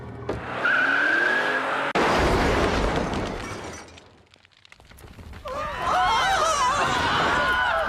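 Cartoon DeLorean time machine car tearing off with squealing tires, a sharp crash-like burst and roaring engine, the sound dipping briefly before swelling again with screeching, whistling effects.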